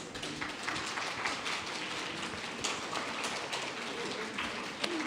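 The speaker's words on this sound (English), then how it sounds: "Can we do that clapping?" An audience at a sustainable finance curriculum launch applauds with steady, dense clapping that holds evenly for several seconds, close and moderately loud.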